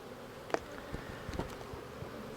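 Honeybees buzzing around hives in an apiary, a soft steady hum with a few brief louder passes of individual bees flying close by, no talking.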